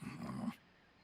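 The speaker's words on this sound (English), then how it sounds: "Don't you dare think about trying to capture an attack dog." A guard attack dog in Metal Gear Solid Delta: Snake Eater gives a short, close, low growl lasting about half a second, then cuts off into quiet game background.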